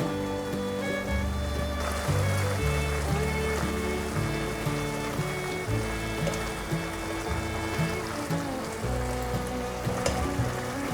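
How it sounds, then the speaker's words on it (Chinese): A tomato and white radish dish is stir-fried in a pan over medium heat, giving a soft continuous sizzle and occasional stirring under prominent steady background music, with no voices. "开中火，继续翻炒。"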